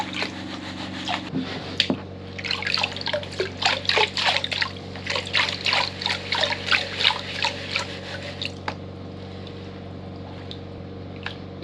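Gold panning water sloshing and swirling in a pan during a cleanout of gold concentrate, a run of close, wet splashing swishes under a steady low hum, then quieter.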